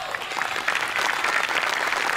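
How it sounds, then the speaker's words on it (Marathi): Audience applause for special guests on a Marathi comedy stage show, a full crowd clapping steadily and fairly loud, swelling slightly after the first moments, with no talking. "आजच्या आपल्या ह्या खास पाहुण्यांसाठी एकदा जोरदार टाळ्या प्लीज"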